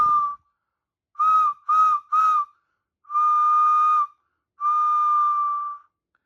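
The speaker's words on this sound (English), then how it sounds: "I can get a very clear sound from this whistle." A clear, high whistle blown several times: a short blast, three quick toots, then two longer sustained tones, each with a pure ringing pitch.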